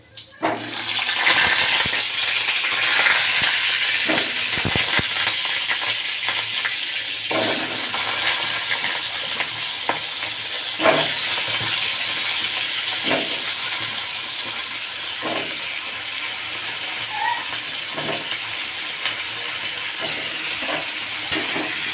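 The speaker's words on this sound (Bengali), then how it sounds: "দেখো পটলটা ভাজা চলছে, এখনও ভাজা হয়নি, আরেকটু ভাজা হবে" Pointed gourd and potato pieces fry in hot oil, a steady close sizzle and hiss that carries on without a break, with faint clinks of stirring now and then.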